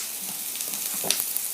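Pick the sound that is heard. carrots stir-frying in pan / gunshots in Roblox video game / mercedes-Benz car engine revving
carrots stir-frying in pan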